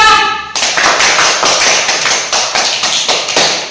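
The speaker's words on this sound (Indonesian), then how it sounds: "Kita kasih tepuk tangan untuk kelompok 2." A classroom group claps in unison for a student team, a steady rhythmic run of loud, close hand claps after a brief opening moment.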